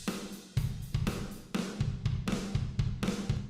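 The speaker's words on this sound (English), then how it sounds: "The guitar little riffy part is this." A short guitar riff from a rock song demo plays in rhythmic, punchy bursts with strong low-end hits and brief gaps, loud and alone without any talking.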